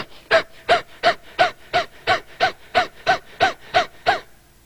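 Rapid rhythmic breathing exercise: about twelve sharp, evenly spaced breaths in a steady pulse, close and loud, with no other sound.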